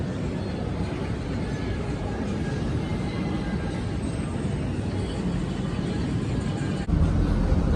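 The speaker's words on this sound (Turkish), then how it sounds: "Endonezya'da kalacağımız otele doğru otobüse bindik gidiyoruz" Steady low rumble of a bus riding through Denpasar, Bali, in Indonesia, a constant drone of engine and road noise heard from inside with one brief dip near the end.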